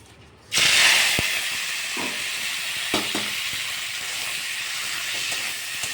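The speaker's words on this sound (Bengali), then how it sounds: "ইঁচড়ের জন্য আমি চিংড়ি মাছটা ভেজে নেব। তেল আমার একদম গরম হয়ে গেছে।" Shrimp frying in very hot oil for jackfruit curry, a loud steady sizzle and hiss that bursts in suddenly and continues, with a few faint clicks of a utensil against the pan.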